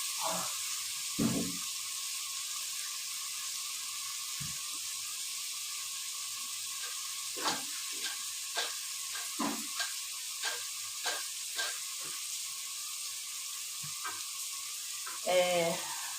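Grated onion sautés in a pan with a continuous soft sizzle, while a spoon scrapes and stirs at irregular intervals, producing quiet clicks and knocks against the pan close by.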